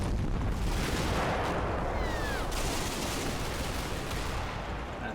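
Dense, continuous battlefield din from a combat video game, with half-track machine guns firing amid heavy rolling gunfire and explosions, loud and unbroken throughout with no clear separate bursts.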